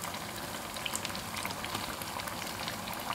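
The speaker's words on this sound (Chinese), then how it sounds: "一边炸一边捞" Fritters of milk-and-flour dough deep-fry in oil with a dense, even bubbling crackle, close and steady, with faint light ticks on top and no talk.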